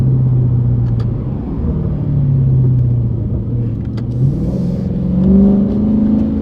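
A Dodge Scat Pack's engine rumbles deep and loud from close range, its revs rising and falling with a throaty exhaust burble that swells near the end, with no talking.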